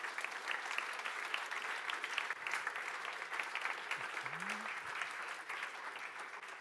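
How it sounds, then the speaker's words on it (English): An audience claps steadily after a talk at a tech meetup on quantum computing, a dense, even wash of applause from many hands that continues for several seconds at moderate volume. "warm applause"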